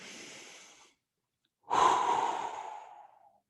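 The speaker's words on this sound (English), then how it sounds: "exhaling through the mouth, making that nice whoosh sound" A long airy breath out, then after a short pause a deeper, louder whooshing exhale through the mouth that slowly fades, close to the microphone.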